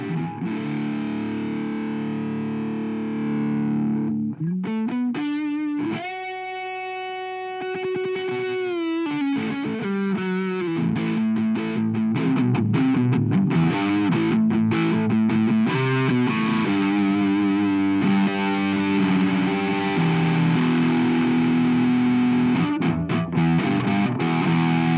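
Electric guitar through a Boss MZ-2 Digital Metalizer pedal with an analog distortion circuit plus digital doubling and chorus, all knobs at 12 o'clock: heavily distorted sustained notes and chords that enter after about four seconds of low hum and ring out loudly.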